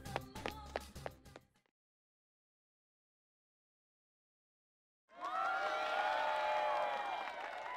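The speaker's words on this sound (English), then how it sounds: "When I step outside the gym, I hear a cheer from somewhere" In the video game Persona 4 Arena Ultimax, a crowd cheers, a full swelling roar that rises after a burst of percussive game sounds and a long silence.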